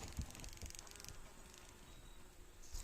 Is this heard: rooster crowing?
no